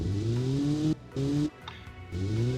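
Virtual car engine in the Automation tycoon game revving in repeated bursts, harmonic tone climbing and dropping between throttle pulls, loud and close with brief gaps of quiet.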